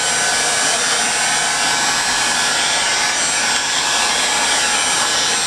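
Black+Decker 20V Max lithium cordless sweeper blower runs continuously to push leaves off grass, a loud, steady close-up whooshing roar with a high whine and no pauses.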